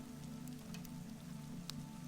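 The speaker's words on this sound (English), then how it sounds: "She heard the rain on the windows, steady and deep and endless." Rain patters steadily on windows of an old English country house, a soft, continuous wash with a faint low indoor hum beneath.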